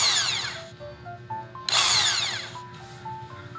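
An impact drill with a bent bit runs loudly in two bursts, its whine wavering and rising with a steady hum beneath, pausing briefly in between.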